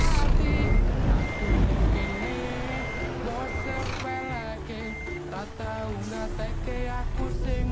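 Truck or bus reversing beeps on a road in Indonesia: repeated steady electronic beeps cut through engine rumble and traffic noise, moderately loud and close, continuing throughout with no speech over them.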